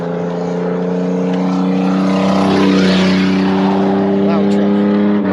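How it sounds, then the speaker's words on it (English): A loud truck passes by along a road, its steady engine drone with a strong low hum building and peaking midway, then continuing as it moves off. "Loud truck."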